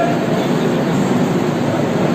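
Inside the Secunderabad–Danapur superfast express while it runs, a constant loud rumble and rattle of the moving coaches on the rails, steady throughout with no speech.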